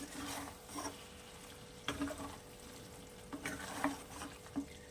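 Small kachki fish frying and being stirred in a pan: a soft, steady background sizzle with a few brief scraping and stirring bursts at intervals, near and alone.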